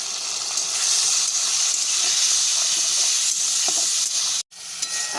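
Spice paste of cumin, coriander and Kashmiri chilli powders with a splash of water sautés in a pan, giving a loud, continuous hissing sizzle close up, with faint stirring scrapes and a brief drop to silence near the end.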